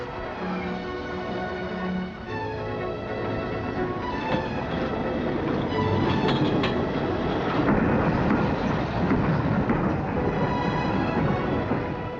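A 1963 British diesel-hauled goods express train rolls steadily past with a continuous heavy rumble and metallic clatter, loud and close, with no break in the noise.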